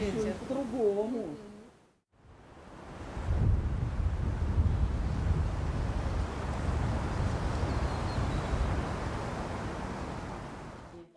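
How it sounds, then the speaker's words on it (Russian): Frosty winter wind roars steadily against the microphone in a rural village, a broad, loud rush that follows a brief stretch of speech. "Сегодня не такой морозный ветер."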